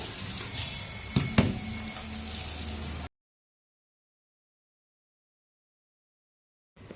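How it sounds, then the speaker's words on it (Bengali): Eggplant and ridge gourd rinsed under running water from a tap, a steady splashing for about three seconds with a couple of sharper knocks, then silence. "বেগুন আর ঝিঙে টিঙে সমস্ত কিছু ধুয়ে নিয়েছি আরেকবার ধুয়ে নিচ্ছি"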